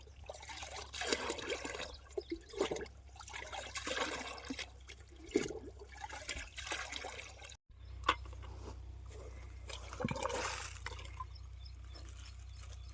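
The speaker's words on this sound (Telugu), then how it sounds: "ప్రతి మొక్కకి ఒక డబ్బా నీళ్ళు పోయడం వల్ల ఇలా బురద మట్టి నీళ్ళు" Muddy water mixed with soil is poured from a bucket at the bases of plants on a farm, with splashing, gurgling pours in bursts separated by short pauses.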